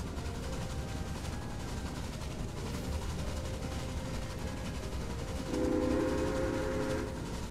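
A train rolls past in the Railway Empire game, with a steady low rumble and a whistle tone that swells near the end, fairly quiet with no talk.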